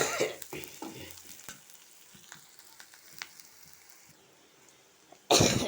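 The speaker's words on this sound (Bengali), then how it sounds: "এই যে আমি কড়াইতে তেল দিয়ে পেঁয়াজ, আদা, রসুন, একটু গোটা জিরে আর শুকনো লঙ্কা, কাঁচা লঙ্কা দিয়ে দিলাম।" Onion, ginger, garlic, whole cumin and dried and green chillies frying in oil in a kadai: close crackling sizzle with stirring, a cough partway through, then a sudden louder burst of sizzle at the end.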